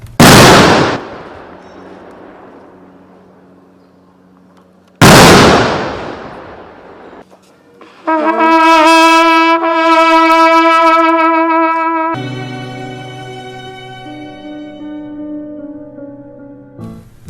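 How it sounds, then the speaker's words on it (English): A military gun salute for Kenya's third president sounds as two loud, sharp booms that ring out and fade over several seconds each, followed by sustained brass band chords, heard outdoors at close range without speech. "With the military granting him a 19-gun salute."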